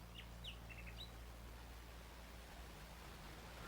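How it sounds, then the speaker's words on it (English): A nightingale sings in a wood, a few faint, high chirping phrases near the start over a steady low background hum, then only the hum continues. "Do you hear the nightingale singing in the wood?"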